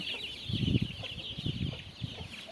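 A hen with her chicks clucks in soft, low bursts at an irregular rhythm, while high, thin chick peeps run continuously above, close but quiet.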